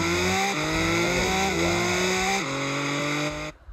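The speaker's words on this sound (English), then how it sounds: "So you can really hear the engine purr." Car engine in the Roblox game Wayfort, a steady synthetic motor drone whose pitch rises and dips as it revs, loud and close throughout, then cutting off abruptly near the end.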